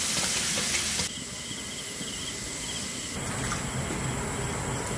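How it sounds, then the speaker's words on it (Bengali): Jujube pulp bubbles in a kadai while being stirred, giving a soft, steady sizzle with faint scraping, close and continuous with no talk. "নাড়তে থাকতে হবে, নাহলে তলায় লেগে যেতে পারে, এই জন্য শুধু ঘন ঘন নাড়া দিতে হবে।"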